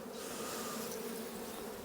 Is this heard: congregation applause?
no